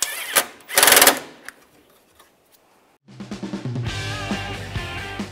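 Power tool tightening a bolt on the bumper-mounted grille of a 2014-2019 Toyota Corolla, with two quick buzzing bursts near the start, followed after a pause by louder, steadier sound running to the end.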